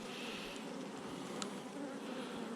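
Honey bees buzz steadily at a hive in spring, a continuous low drone with a faint higher whine, fairly quiet, with one brief click partway through and no voices.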